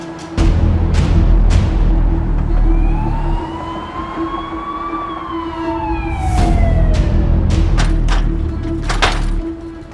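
An ambulance siren wails during a chase, rising and falling in long sweeps over a loud, steady vehicle rumble, with sharp bangs near the end.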